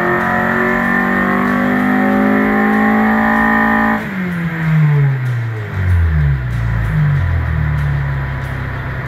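A turbocharged K23 engine swapped into a Honda Civic revs on a dyno, a loud sustained high-pitched pull that drops off sharply, then settles into deeper rising and falling engine revs.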